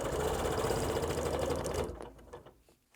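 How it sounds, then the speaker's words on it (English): A sewing machine runs fast and steady, quilting over the edge of a fabric block, its needle clattering rhythmically for about two seconds before it slows and stops. "then gently quilt coming right over that edge"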